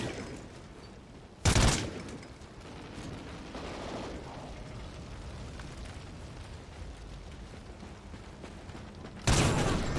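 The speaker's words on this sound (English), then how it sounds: "Ah, fuck, shotgun." Two loud, sharp shotgun blasts from Call of Duty Ghosts, the first early and the second near the end, separated by a stretch of quieter in-game ambience.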